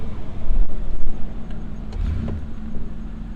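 A $1500 Pontiac Firebird rolls forward in drive gear, its engine giving a loud low rumbling drone close by, with faint clicks and creaks over the steady running.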